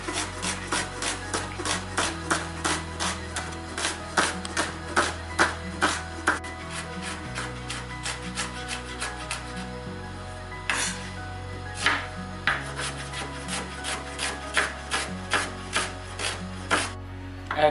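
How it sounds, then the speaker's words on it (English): A knife cuts an onion on a board, halving it and then slicing it thinly into a steady series of crisp, close taps, with no one talking. "cut it into half, back again into half, and then just thinly slice it"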